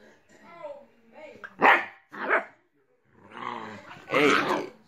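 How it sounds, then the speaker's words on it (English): A pet dog barks and growls nearby in loud, uneven bursts, separated by brief pauses, with a voice mixed in. "look at my dog."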